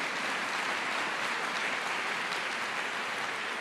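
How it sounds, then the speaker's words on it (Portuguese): A church congregation applauding during a sermon, sustained dense clapping from many hands that fills the room at a steady level throughout, without speech. "Você pode dar uma salva de palmas para Jesus?"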